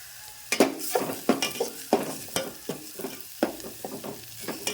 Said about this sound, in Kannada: ಇವಾಗ ಉಳ್ಳಾಗಡ್ಡಿ ನೋಡಿರಿ ಒಂದು ಸ್ವಲ್ಪ ಫ್ರೈ ಅಲ್ರಿ